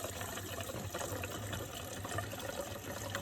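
Gasoline pours steadily into the 2.5-gallon gas tank of a Honda ATV, a close, continuous gushing fill lasting a few seconds with no voices.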